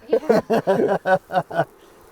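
Honeybees from newly installed nuc hives on a farm buzz close by in a string of loud, pulsing bursts that end abruptly and leave quiet.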